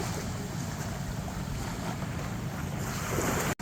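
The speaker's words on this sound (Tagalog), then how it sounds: "Bangka na." A fishing boat on the sea off a beach in Iba, Zambales, Philippines, at sunset, is heard faintly through a constant wash of surf and heavy wind buffeting the microphone.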